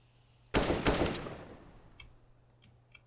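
Rapid automatic gunfire sprays through smoke on Mirage in Counter-Strike, a loud dense burst of shots that tails off, followed by a few faint, brief clicks.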